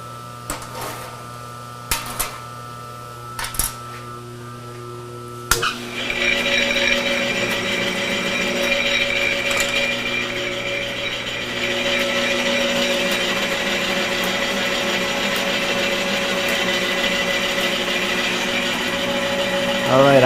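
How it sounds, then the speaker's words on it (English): Line boring bar cutting a bore on a Sibley line bore machine: after a few clanks and knocks, a steady loud whining grind with a ringing metallic tone runs continuously, close. "I'm cutting all the way around right there, right now"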